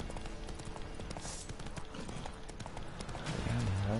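Hooves of Roach the horse in The Witcher 3 clip-clopping in a steady galloping rhythm, moderately close, with game ambience underneath.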